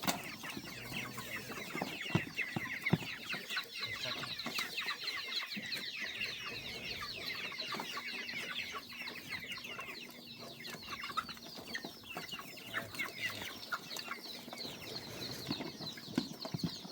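Chickens cluck steadily in a farmyard, with a busy, continuous chorus of fowl sounds and occasional wing flaps at moderate distance throughout.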